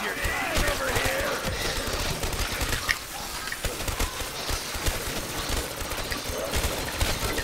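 Rapid submachine gun fire from a PPSh in Call of Duty Black Ops III zombies mode, dense sustained bursts with crackling shots, loud and close throughout, with a brief lull near the middle and game voices mixed in.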